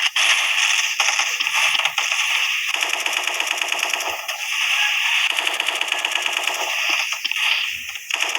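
Rapid, continuous Gatling gun fire in a game, a dense rattling stream of shots that runs almost without pause, loud and close.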